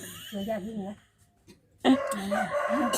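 A rooster crows nearby in two bursts separated by a short quiet pause, the second call louder and more strained than the first.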